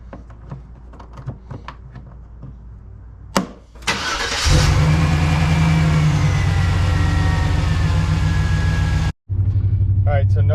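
A repaired pickup truck's engine cranks and catches after a few clicks and clunks, then settles into a steady, even idle around 1,000 RPM, briefly cutting out before running on, with someone talking nearby.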